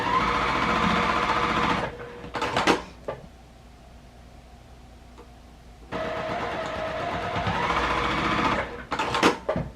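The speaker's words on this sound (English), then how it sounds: "so let's sew these two first" A sewing machine stitches quilt pieces in two close, steady runs of rapid mechanical whirring, separated by a pause filled with a faint hum and a few clicks and knocks.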